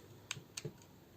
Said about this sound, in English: And then you can actually fold these wheels down to get his